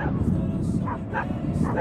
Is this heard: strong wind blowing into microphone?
no